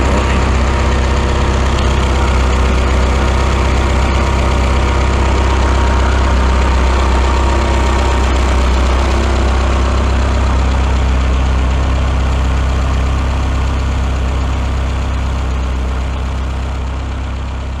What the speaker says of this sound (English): Here is rare footage of a G54B actually running.